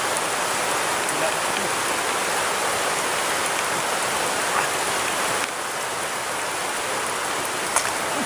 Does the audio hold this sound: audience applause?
no